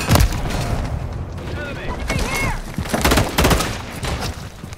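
Gunfire in Call of Duty Modern Warfare 3 hardcore domination play: repeated loud bursts and booms across several seconds, mixed with game sound effects and some speech.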